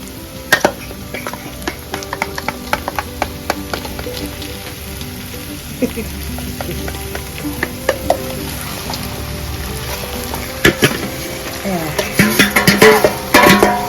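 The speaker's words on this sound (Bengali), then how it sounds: "আমি আর অপেক্ষা করতে পারছি না মাংসটা ঢেলে দিই" Meat going into a hot pan, with steady sizzling and frying plus sharp clatters and scrapes of stirring that grow busier toward the end.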